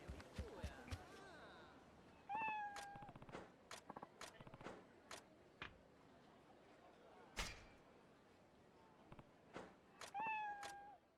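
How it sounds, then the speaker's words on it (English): A cat meows repeatedly in the Like A Dragon: Ishin video game, with rising tonal calls at several points over quiet game sounds and soft clicks. "There's a cat here."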